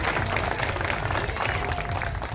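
An audience at a golden jubilee ceremony of a national Ayurveda institute claps in welcome, a dense, steady wash of applause from many hands filling the whole stretch.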